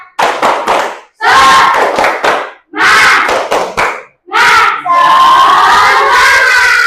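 Classroom group of children doing a rhythmic spirit clap, loud and close: bursts of sharp synchronized claps in a patterned beat alternating with shouted chant, pausing briefly between phrases and ending in a sustained group shout.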